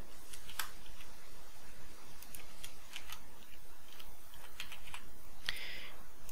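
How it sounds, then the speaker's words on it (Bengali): Sparse, crisp key clicks on a computer keyboard as an email address is typed in, irregular taps spread across a quiet room with no one talking. "আমি আমার মেল লিখে দিচ্ছি"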